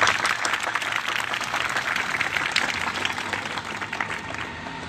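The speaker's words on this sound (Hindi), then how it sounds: "इनके एतराफ़ में तालियां मैं बजाऊंगा।" An audience at a school board speech event in Hyderabad applauds the schoolgirls, steady crowded clapping that holds at a fairly even level throughout and eases only slightly near the end.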